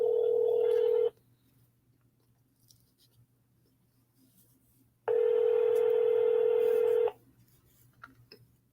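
Telephone tones from an Intertel voice processing system sound in two steady, loud bursts, about a second and then two seconds long, with quiet line hiss and a low hum between them and no talking.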